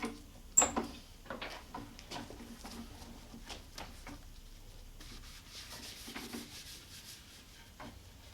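A tack cloth is wiped over a Telecaster Deluxe guitar body as quiet, close rubbing strokes with a few soft knocks, slow and irregular, and no talk.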